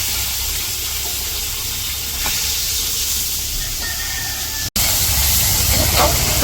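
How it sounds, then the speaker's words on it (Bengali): Pangas fish frying in oil in a village kitchen makes a loud, continuous hiss and sizzle, close up, broken by one brief cut in the sound near the end. "এই পাঙ্কাশ মাছ ভাজি করে নিচ্ছে"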